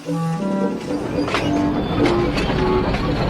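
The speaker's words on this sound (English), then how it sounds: "Dennis watched Thomas puff away." A steam engine train puffs along the track with rolling clickety-clack rhythm and a few soft whistle-like tones over it, continuous and fairly close, with no speech.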